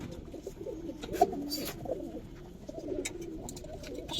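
Pigeons at a colour pigeon farm in Bangladesh give soft, low coos that are fairly faint against steady background noise, with a few brief chirps scattered through.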